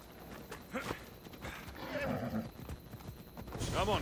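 Hooves clop and a horse whinnies in the Assassin's Creed Odyssey video game, brief hoof beats followed by a short rising neigh near the end, at moderate volume against a busy game soundscape.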